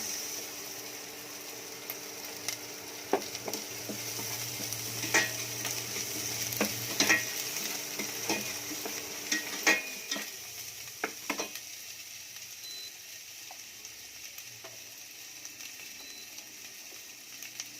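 Onions sizzle steadily in a pan while being sautéed for Kapampangan tinola. Scattered clicks and scrapes from a stirring utensil break through the constant frying hiss, with no talking.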